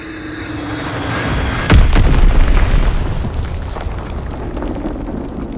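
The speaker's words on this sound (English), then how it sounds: "Enemy bomb incoming." A bomb explodes in a WW2 video game: one loud, close blast with a sharp onset, then a deep rolling rumble that slowly fades over a steady background.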